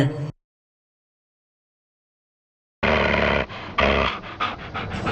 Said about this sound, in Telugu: ఏంట్రా కుక్క అరుపులా వినపడుతుంది?